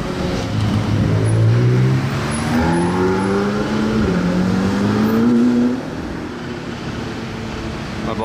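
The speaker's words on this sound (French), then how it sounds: "On a une deuxième 765 LT Spider en 2 minutes ici" A McLaren 765LT Spider sports car passes loudly near the listener, its engine note sweeping up through several gear-like rises before fading into steady traffic hiss.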